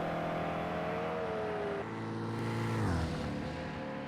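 Racing cars in Project CARS 2 doing burnouts after GTE Cup qualifying at Laguna Seca, engines droning and revving in a steady, layered roar with a pitch shift partway through.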